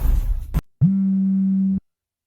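A phone rings in a domestic drama scene: one loud, steady electronic tone lasting about a second, starting right after speech cuts off and standing alone.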